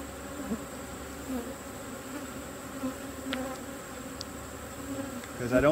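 Honeybees hum around an open beehive during an emergency queen install, with robbing going on. The buzzing is a steady, moderately loud drone, and a few individual bees pass close by.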